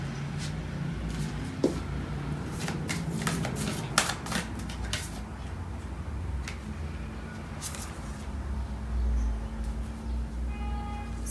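Tarot cards being shuffled and clarified, a steady series of quick, crisp card snaps and flutters over a constant low background hum, close and moderately loud.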